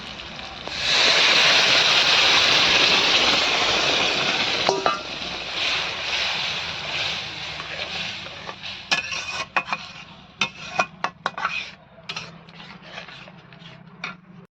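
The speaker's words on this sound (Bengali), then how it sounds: "এরপর সিদ্ধ করা ডাল সব ওই ফোড়নের মধ্যে ঢেলে দেওয়া হবে" A loud, rushing pour of boiled lentils into hot spiced tempering lasts several seconds, then gives way to scraping stirring and scattered clinks of a utensil against the pot, heard up close.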